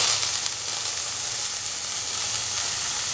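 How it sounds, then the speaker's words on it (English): Steady, close frying sizzle with a low hiss fills a pan as chopped tomatoes go into a dry scrambled egg breakfast, continuous and even throughout with no talking. "now put in the tomatoes"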